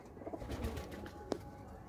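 A pigeon coos briefly and softly among a loft of birds, a short low murmur with a faint flutter, heard alone and fairly distant.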